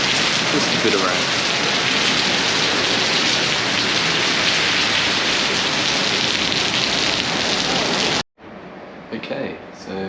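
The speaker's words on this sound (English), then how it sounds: "And the rain has begun." Steady rain falls in Kuching, Malaysian Borneo, as a loud, dense hiss that is close and constant for about eight seconds, then cuts off abruptly to a quieter room tone with faint rustling.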